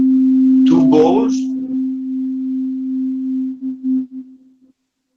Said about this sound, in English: the most healing thing of the bowls is when you have two bowls with the same sound